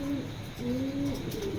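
A racing pigeon cooing, one close, soft, rolling coo that rises and trails off twice in quick succession over a low hum of background noise.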